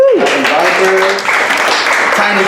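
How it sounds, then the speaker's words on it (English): Audience applause at a poetry event, a dense burst of clapping that carries on for a couple of seconds while a voice talks over it. "Can we have more applause for Tom Scully"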